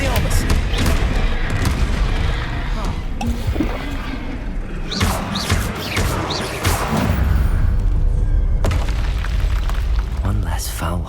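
Confringo spell blasts in the video game Hogwarts Legacy: repeated booming explosive impacts over a loud, dense battle din, with voices speaking throughout.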